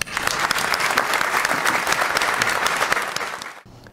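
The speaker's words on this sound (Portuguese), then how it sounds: "Estamos aqui, desembargadora Márcia, para aplaudi-la efusivamente," An audience at a ceremony honoring a judge breaks into sustained, dense applause that stays loud and steady for over three seconds, then cuts off abruptly into near silence.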